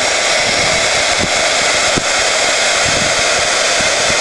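A heat gun blows loud and continuous close by, a steady roaring hiss with no pauses as it melts embossing powder on a canvas.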